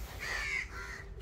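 A crow caws once, loud and near, beside a rural grandmother's house with fields in front, the harsh call stretching for about a second over faint background ambience.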